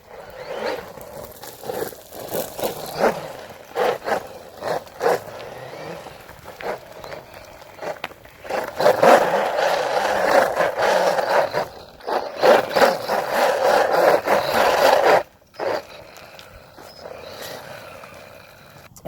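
A HOSIM 1/16 scale 4x4 brushless RC car rips across pavement, its motor whining in repeated bursts that rise and fall as it accelerates and passes, loudest mid-run, with tire and gravel scuffing between pulls.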